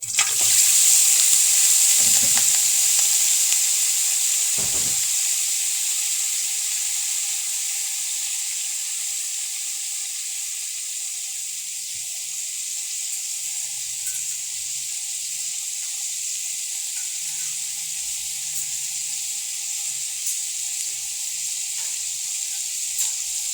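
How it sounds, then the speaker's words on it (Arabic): Animal fat frying in a little oil in a pan, giving a steady, bright sizzle that is loudest at first and settles to a constant hiss, with a few faint utensil clicks near the start. "بحط شوية زيت بس صغيرين، أي زيت يعجبك، وأقوم حاطة الدهنة أهي"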